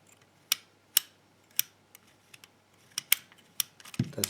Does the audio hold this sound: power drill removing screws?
no